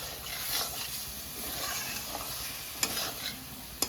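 Goat fat and peas sizzle in a pan as they are stir-fried for ghugni, a steady close hiss with occasional scraping stirs.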